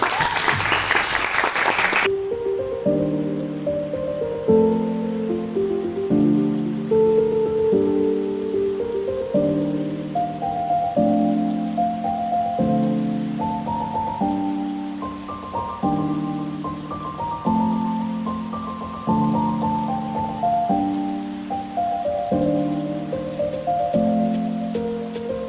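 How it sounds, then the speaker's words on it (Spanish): An audience at a literature conference in Arequipa breaks into a dense burst of applause for about two seconds, then it cuts off and a repeating melodic music phrase plays on at steady volume. "Un fuerte aplauso, por favor."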